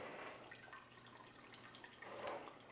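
Rinsed brewing grains for an oatmeal raisin cookie stout drip quietly into a vessel, soft scattered drops and trickles with a slightly louder splash near the end, close by with no talking.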